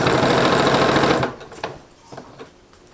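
A sewing machine stitches quilt binding in place in a dense, fast burst lasting just over a second, then stops, leaving a few faint clicks and handling sounds.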